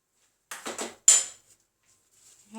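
A metal spoon scrapes and taps against a container as it is wiped clean during pickle preparation: two or three quick, close scraping strokes followed by a sharper clink, then near silence.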